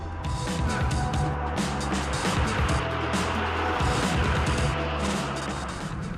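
A 2000 Ford Mustang Cobra R with just over 5,000 miles roars loudly and steadily as it drives, a dense, continuous engine and road noise filling the whole stretch with no talking.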